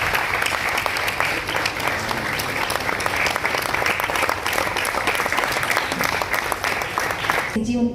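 A book launch audience applauds loudly and steadily for several seconds, a dense crowd of clapping hands that cuts off abruptly at the end.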